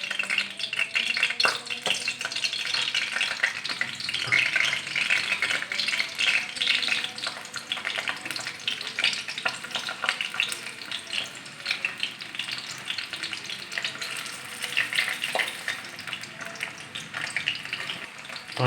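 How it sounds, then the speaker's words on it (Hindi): Tinda, small round gourds, fry in hot oil for a Punjabi stuffed tinda dish, producing a dense, steady crackling sizzle that stays loud and close throughout, with faint stirring rattles and no talk. "अब हम इसमें टिंडे डालेंगे और टिंडों को फ्राई कर लेंगे।"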